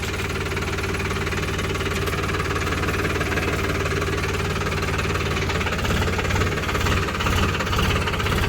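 A farm tractor engine runs steadily at a close, even chugging idle, a loud continuous low rumble with rhythmic knocking and no voices over it.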